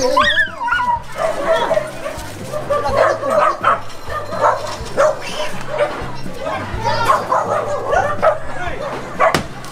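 A dog barks and whimpers with short yips amid a busy, noisy street crowd in Manila, where many people talk loudly over it.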